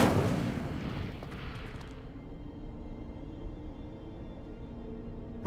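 The Incendio fire spell goes off in Hogwarts Legacy with a loud, booming burst at the start, then a decaying roar and rumble fading into a low, steady hum over several seconds.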